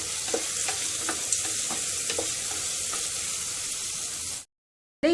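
Onions sizzle and fry in a pan for paneer biryani, a steady close crackle with a few stirring scrapes, alone without talk, then it cuts to silence near the end.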